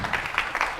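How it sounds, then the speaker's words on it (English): Brief applause rises from the senate gallery in the Arizona Senate chamber, a short patter of scattered claps that is moderately loud. "We don't permit applause in the gallery"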